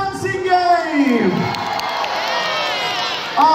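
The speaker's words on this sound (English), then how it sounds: "Can we have a cheer for the dancing game?" A holiday camp audience cheers and whoops for a dancing game at a game show, with crowd noise and children shouting swelling then holding steady, and a host's voice briefly audible under it.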